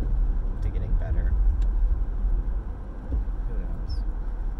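A car running right beside the listener outdoors, giving a steady, close, low engine rumble that persists throughout with little change in level.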